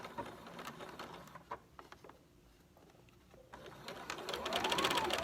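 Home sewing machine stitching an N95 mask in the ditch of a seam, its fast mechanical whir running in close bursts with a quieter pause in the middle, then louder steady stitching to the end.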